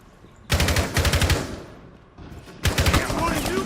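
Rapid automatic gunfire in Rainbow Six Siege during a competitive league match, two loud bursts of fast repeated shots separated by a brief lull.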